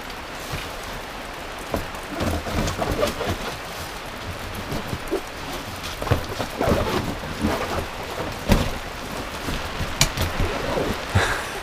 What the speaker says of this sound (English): it is raining. And the rain is coming through the hole.